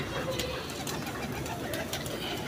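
Low cooing from a pedigree racing pigeon, soft repeated coos over a faint steady background, fairly quiet and close.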